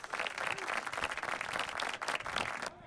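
Dense clapping and applause roll on steadily for a few seconds, broad and crowd-like, before cutting off abruptly at the end.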